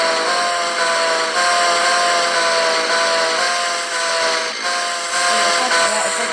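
A loud, steady mechanical buzzing whine of a chainsaw in the video game Kill Your Boss 2, droning continuously with slight dips in intensity.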